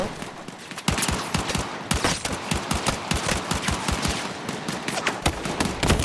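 Gunfire in Battlefield 6, dense rapid automatic bursts and overlapping shots, loud and close, continuing without pause throughout.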